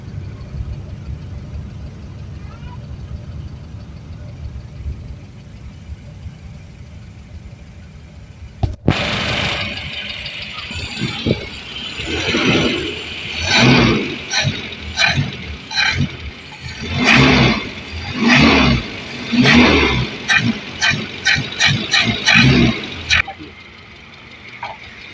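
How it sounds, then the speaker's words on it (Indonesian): A 1984 Mitsubishi Lancer SL with a carbureted engine and a stumbling, misfiring fault cranks and catches, then runs close and loud in uneven surges, revving and sputtering in irregular bursts before cutting off. "Sekarang kita nyalain mobil."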